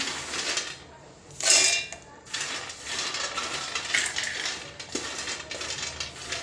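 Peanuts tipped into a steel mixer jar, clattering and rattling against the metal in a few bursts with scraping handling noises in between, close by and with no talk.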